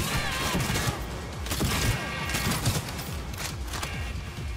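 Shotgun fire in the video game Cyberpunk 2077, dense repeated blasts and booming impacts over a busy combat soundscape, loud and continuous throughout.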